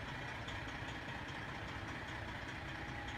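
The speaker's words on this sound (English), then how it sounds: "We'll start our engine." A truck engine in the SnowRunner game runs at a steady rumbling idle, loud and continuous, with no talking.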